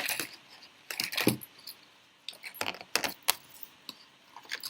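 A keychain with a Bing Dwen Dwen or Shuey Rhon Rhon figure is handled, giving bursts of light metallic jingling and clicking in short irregular clusters, close and fairly quiet.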